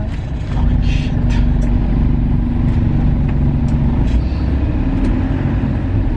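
Heavy traffic rumbles steadily from inside a bus, a loud, continuous low drone of engines with faint brake hiss and passing vehicles, and no talk.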